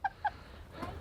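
A goose gives two quick honking calls close by, followed by quiet background rustle on a homestead with pigs.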